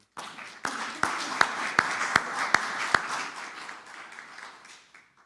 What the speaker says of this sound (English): I want to give her a round of applause for a job well done